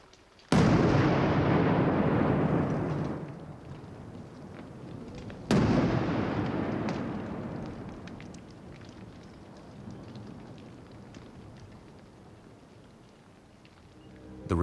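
Explosive charges blasting rock in an emerald mine in Afghanistan: two heavy booms a few seconds apart, each bursting loud and then trailing into a long rumbling, rattling wash of falling debris that slowly fades.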